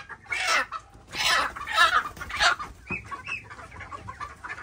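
Chickens and roosters clucking close by on a farm in a noisy run of bursts, loud squawks rising and falling with brief pauses between.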